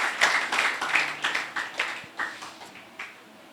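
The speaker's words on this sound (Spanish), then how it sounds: "Démosle un aplauso a nuestro Dios." A church congregation at a Sunday service applauds God, with brisk, irregular clapping from many hands at moderate distance that gradually thins toward the end.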